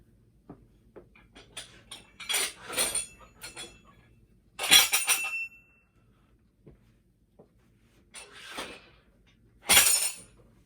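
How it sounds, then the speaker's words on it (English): Metal weight plates clink and clatter as they come off a rack in a home cable-gym setup, several separate bursts of sharp clanks with quiet gaps, near and loud, with no talk. "So let me just take some weights off"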